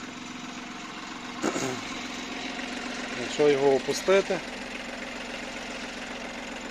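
A tractor engine pulling a cultivator idles steadily in the background with a low, even chug while someone speaks briefly over it.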